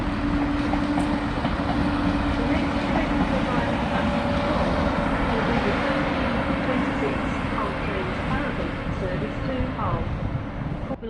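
A Northern passenger train to Scarborough at Doncaster station produces a steady, loud engine drone and rumble with a faint tonal whine, continuous for the whole stretch.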